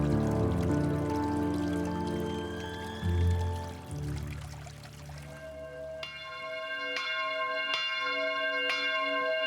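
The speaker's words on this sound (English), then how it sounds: "the bells of the seaside chapel toll" Running water trickles and splashes over shells in a garden by the sea, then a seaside chapel bell tolls several times, slow and resonant, each stroke ringing out and fading.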